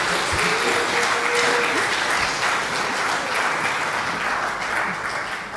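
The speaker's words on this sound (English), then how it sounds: "big round of applause" Conference audience applauding a partner consortium team during welcoming remarks: dense, steady clapping from a large crowd fills the whole stretch at close, even loudness, fading only slightly at the end.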